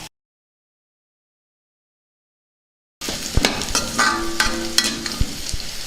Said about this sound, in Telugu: ఇందులోనే వెల్లుల్లిపాయ రెబ్బలు వేసుకుందాం. వీటిని కాసేపు బాగా వేయించుకుందాం.